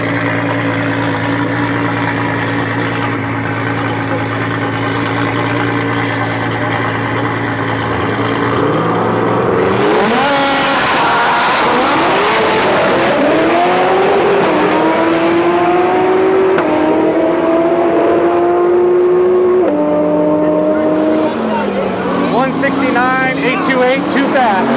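Trevor's drag race car, on a new untuned setup, idles with a steady low drone, then launches around ten seconds in with a loud, rising engine roar that climbs through successive gear shifts, under a continuous wash of crowd and track noise.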